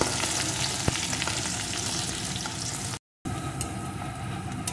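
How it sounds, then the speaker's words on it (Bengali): Chopped onions frying in hot mustard oil for a chicken curry, a steady close sizzle with faint crackle that cuts out briefly partway through, then resumes. "এখন এর ভিতরে আমি দুটো পেঁয়াজ কুচি দিয়ে দেব। পেঁয়াজ কুচিটা একটু ভেজে নেব।"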